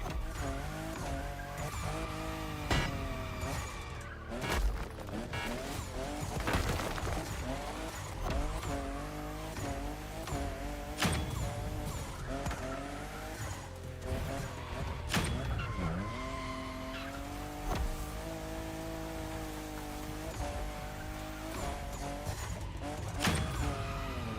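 A fifth-generation Toyota Supra races in The Crew Motorfest, its engine revving up and down through gear changes with repeated tire squeals and skids, a continuous loud drive with no talking.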